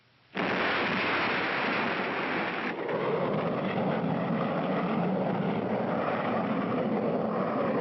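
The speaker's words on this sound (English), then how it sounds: "5, 4, 3, 2, 1. Blast off!" A cartoon rocket blasts off toward the moon with a loud, sustained roaring rumble that begins abruptly and keeps going, no voices over it.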